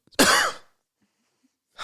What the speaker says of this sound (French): Qu'est-ce que je tousse chez toi?